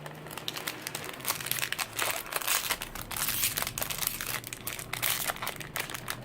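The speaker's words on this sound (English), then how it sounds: "So it has the bubble wrap around it and it's individually packaged in these little like sticky envelopes." Bubble wrap and sticky envelopes from cabochon packaging crinkle and crumple close up in a busy, continuous rustle with sharper crackles throughout.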